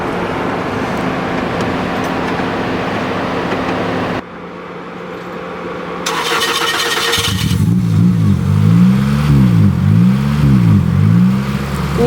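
Toyota Celica GT-S engine cranking and catching after a breakdown, followed by a steady idle with a rhythmic, wavering pulse, loud and close.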